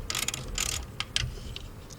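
A socket wrench works a 10 mm nut on the alternator-to-battery cable of a car. It gives a few close, crisp ratcheting clicks in short bursts, with no voices.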